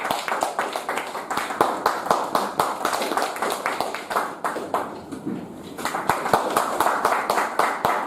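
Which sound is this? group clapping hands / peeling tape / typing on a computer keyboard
group clapping hands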